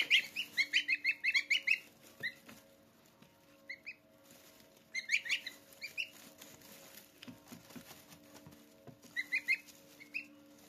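Young goslings chirp in quick high bursts, loud and close in clusters at the start, middle and end of the clip, with quieter scattered peeps between and a low steady background hum.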